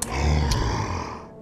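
A giant troll in Puzzle Quest 2 lets out a low, rumbling roar, close and sustained for about a second, then fading, with no talk.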